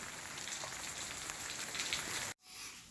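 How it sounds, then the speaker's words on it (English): Rain falls steadily in a quiet, even patter on surfaces, faint and constant, with an abrupt drop near the end before the hiss returns more softly. "Just to show, guys, it's raining."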